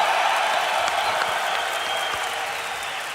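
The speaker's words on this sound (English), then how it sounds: "it seems like they love you too, based off of their cheering" A large crowd at a Counter-Strike esports tournament in Malmö claps and cheers in a dense, steady wash of applause that holds throughout and slowly tapers.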